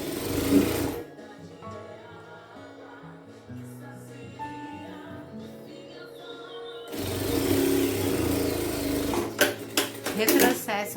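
A domestic sewing machine stitches a seam on fabric for a dresser changing pad, a close mechanical whir that runs in bursts, with someone speaking at the start and again near the end.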